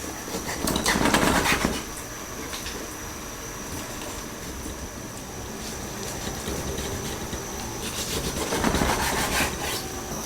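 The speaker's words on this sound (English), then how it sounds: "cut the pork ribs into pieces." Rapid, repeated strokes cutting through pork ribs on a wooden board for lotus root soup, a burst at the start and another near the end, with quieter scraping between.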